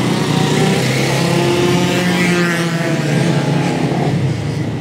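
A racing motorcycle from Team Minerva Oil 87 laps the track during an endurance race pre-test, its engine droning loud and steady throughout with the pitch rising and falling as it passes; no voices.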